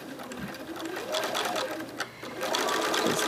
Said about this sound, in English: and we just keep sewing